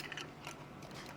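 A lid being screwed onto a container holding thick hojicha mixture gives a few faint, gritty ratcheting twists close up, in short bursts with no talking.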